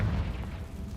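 A Confringo fire spell exploding in Hogwarts Legacy: a single heavy low boom that hits at once and rumbles away within a second, with no voice over it.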